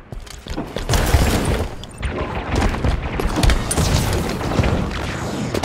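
In the Halo video game, the enemy core is bombarded with gunfire, and loud, dense explosions and booming impacts roll on continuously.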